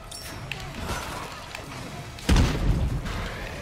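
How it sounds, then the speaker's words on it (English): A grenade thrown in a co-op shooter game erupts in a sudden loud boom partway through, after quieter rustling movement, with a rumbling tail fading afterward. "I'm going to try to chuck this grenade in there."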